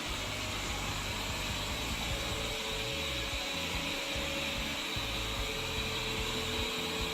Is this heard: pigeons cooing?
no